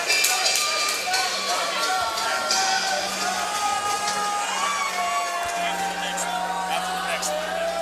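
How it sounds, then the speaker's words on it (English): A loud, dense crowd keeps roaring and whooping between rounds at a USFFC 22 fight event, a steady wash of cheering that never drops, with raised voices mixed in. "listen to that crowd. They're still going nuts here in between rounds"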